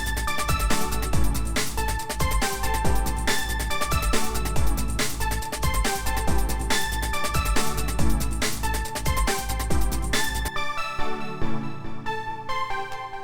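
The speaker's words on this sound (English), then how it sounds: "how to make a euphoric keys patch in Vital" A euphoric keys synth patch built in Vital with wave shape distortion plays bright, dense chords over a pounding kick and beat, then drops to sustained keys alone for the final few seconds.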